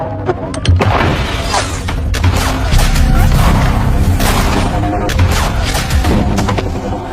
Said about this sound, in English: several bursts of gunfire are heard coming from behind the building